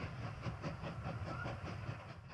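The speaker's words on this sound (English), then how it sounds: "Here comes our lumber train." Lumber train in the Mashinky game rolling along rails, a steady rhythmic clickety-clack of wheels over track joints with a low rumble, continuous and fairly close throughout.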